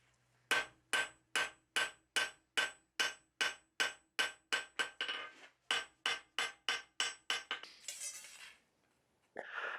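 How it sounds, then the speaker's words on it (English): A hammer forges a steel pricking iron on an anvil: about twenty sharp, ringing metallic blows in a fast, even rhythm, a brief pause, then a few more strikes, close and clear with no talk. "I'm going to forge it as close to the final dimensions as possible"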